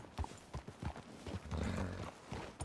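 Horse hooves clip-clopping in the Red Dead Redemption 2 video game, a quiet uneven rhythm of hoof strikes over a low rumble, fairly faint and close.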